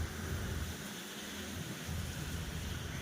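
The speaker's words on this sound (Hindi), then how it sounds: "तो इस तरह से भाई रिवर फ्रंट पे आज तो बारिश हो रही है" Rain falls at the Sabarmati riverfront near Atal Bridge as a steady, even hiss with a soft low rumble like wind underneath. It is continuous and moderately faint, with no voices.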